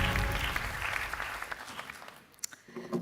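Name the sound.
audience applause at film festival awards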